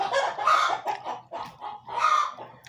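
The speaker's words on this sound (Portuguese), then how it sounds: "A galinha, aqui no beco, onde eu fico no quarto, é cheio de galinha." Several chickens cluck and squawk loudly and close by in a narrow residential alley, with bursts of calling rising and falling in waves across the whole stretch.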